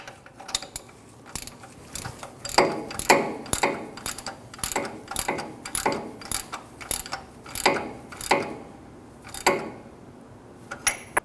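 Ratchet tightening a new oil pressure switch into the oil pan of a 2012-2021 Nissan NV2500 5.6L V8: rapid clicking pawl strokes in repeated bursts, close and crisp, with no voices.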